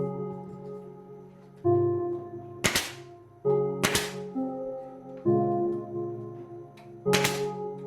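Nail gun fixing skirting boards in place, three sharp, loud shots spaced a second or more apart over a steady tonal drone.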